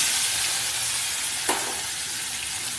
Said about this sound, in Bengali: এবার আমি পেঁয়াজ রসুনের পেস্টটার মধ্যে দিয়ে দিচ্ছি।